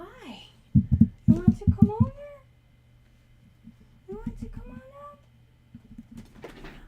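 A pet cat meows several times in short, rising and falling calls, close and fairly loud, with brief gaps between the bursts and faint background noise.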